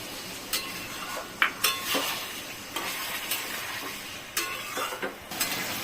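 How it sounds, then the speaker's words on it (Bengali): Spices being stirred and fried in a pan for paneer biryani: a soft continuous sizzle broken by repeated sharp scrapes and clinks of a spoon against the metal pan, close by with no talking. "এই যে সব ভাজা হয়ে গেছে মশলা দিয়ে একদম পুরো কষানো হয়ে গেছে"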